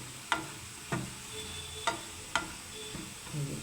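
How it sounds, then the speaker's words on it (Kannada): Mushroom masala is stirred in a pan over a low flame. A few sharp spoon scrapes and taps land at uneven intervals over a faint, quiet sizzle. "ಹೀಗೆ ಚೆನ್ನಾಗಿ ಕೈಯಾಡಿಸ್ತಾನೆ ಇರಬೇಕು."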